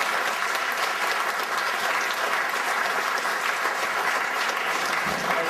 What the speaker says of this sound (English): I'll give Charlotte a round of applause.